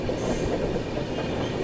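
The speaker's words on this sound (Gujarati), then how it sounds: "ફાઇનલી ભાઈ આપણી ટ્રેનમાં લાગી ગયા છે 2 પાછળ બેંકર લોકોમોટિવ." The Pushpak Express runs on the Konkan Railway with two banker locomotives pushing at the rear, giving a steady loud rolling rumble of wheels and carriages heard from on board.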